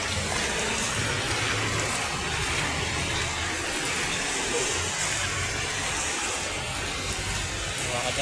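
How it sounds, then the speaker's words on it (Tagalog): Heavy rain pours steadily in a dense, hissing wash, loud and unbroken throughout, with a faint low rumble underneath. "Malakas ng ulan."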